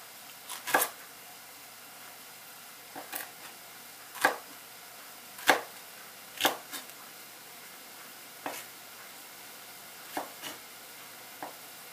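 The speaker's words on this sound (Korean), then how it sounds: "일정하게 썰어주세요." A knife slices ingredients for a chicken à la king on a cutting board, making sharp, separate knocks every second or two at an uneven pace over a quiet background.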